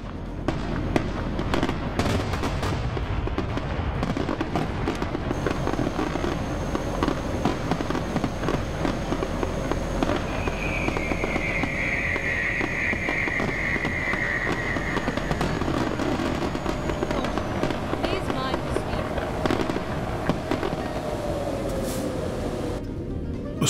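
Fireworks crackle and pop steadily throughout a truck-driving video game, layered over a constant low engine rumble with no gaps, while a faint tonal whine drifts in the background.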